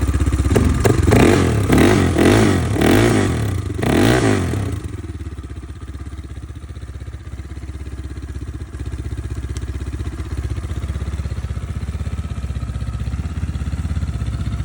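A Geon Scrambler 250cc motorcycle engine revs sharply several times up close, then settles into a steady, rumbling idle that continues to the end.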